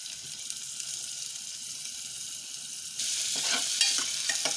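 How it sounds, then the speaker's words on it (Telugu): Tomato, onion and green chillies sizzling in a pan as they are stirred, a steady frying hiss that grows louder halfway through, with soft scraping stirs. "ఇప్పుడు ఒకసారి మంచిగా మిక్స్ చేసుకోవాలండి"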